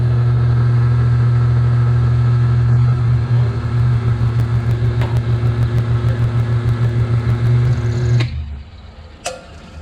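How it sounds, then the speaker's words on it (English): A milling machine plunges a cut into a metal bracket part, its motor giving a steady, close humming drone that stops abruptly near the end, followed by a brief click. "I got my 0 set on the mill, so I need to plunge in 750 from the surface"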